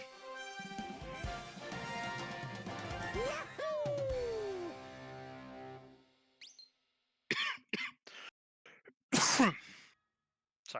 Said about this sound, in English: Sorry for coughing in everybody's ears.